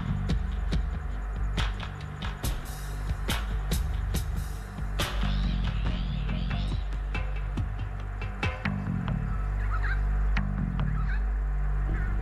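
A bowerbird in an Australian forest gives a series of sharp clicks, whip-like cracks and harsh honking calls, loud and close, with brief bursts of other bird sounds around it.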